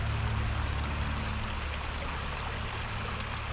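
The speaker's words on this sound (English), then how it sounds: "This is the creek in the parking lot." A creek flows beside a parking lot near Coal Creek Falls on Cougar Mountain, a steady broadband rush of running water with a faint low hum underneath, continuous and without voices.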